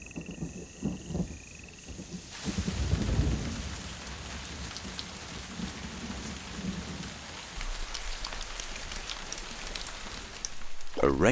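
Rain patters steadily on foliage and the ground, a dense close hiss with scattered heavier drops and a low rumble partway through.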